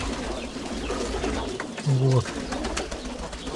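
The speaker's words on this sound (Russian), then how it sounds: "Вот такое хозяйство у него. Вот такие вот голуби." Fighting pigeons at a keeper's loft coo in a low, throaty burst, close by, over a constant outdoor background, while someone says a word.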